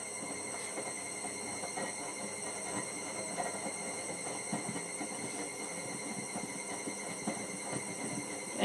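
A washing machine with a snapped drum spider spins with a continuous high-pitched squeal and grinding rattle, steady and moderately close, with no voices.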